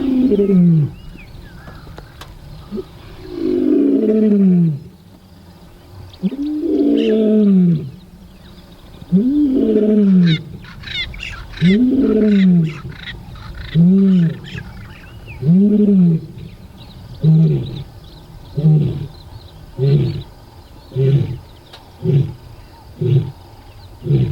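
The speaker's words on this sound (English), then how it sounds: "he's just resting out in an open clearing before belting out a full-blown roar" A male lion resting in an open clearing belts out a full roar: a long series of loud, deep grunting bellows, spaced widely at first, then coming faster and shorter as the call tapers off, close and alone with no talk.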